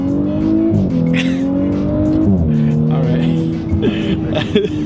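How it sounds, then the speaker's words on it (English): An Audi S4 engine revs hard at full throttle and climbs in pitch, shifting up a couple of times, loud and fairly close, with people talking over it. "This guy just floored it. It sounded pretty good."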